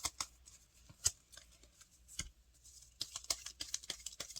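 Tarot cards are shuffled and drawn with soft, scattered flicks and snaps, quiet and close, in uneven bursts with no talk.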